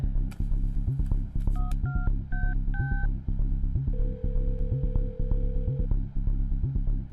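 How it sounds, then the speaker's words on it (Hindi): A phone number is dialed as a short run of separate keypad tones, followed by a long steady ringback tone, all over a constant low background hum. "उसे फोन कर और नॉर्मल बात कर"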